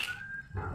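A dog lets out a single brief whine that slides into a short yip, close and fairly quiet.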